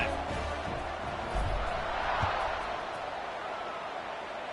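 Stadium crowd at a college football game against Ole Miss roars steadily after a touchdown drive, a dense wash of cheering and chatter that stays loud throughout, with a couple of brief thumps rising out of the noise.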